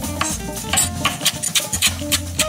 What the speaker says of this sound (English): About a cup of chopped fresh parsley. Cut it straight across.